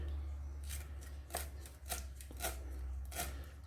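A knife shreds food on a cutting board in about seven crisp, evenly spaced strokes, quiet and close, over a constant low hum.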